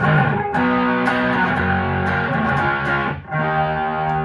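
Electric guitar through a mid-humped overdrive on a Zoom G1x Four plays sustained distorted chords and notes, thick and loud, with a brief dip before ringing on.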